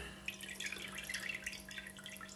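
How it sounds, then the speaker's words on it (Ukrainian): Water trickling and splashing from a tap as meat is rinsed under it, a light irregular patter of drops over a low steady hum. "І даємо його трошки в воду, омиємо від того всього"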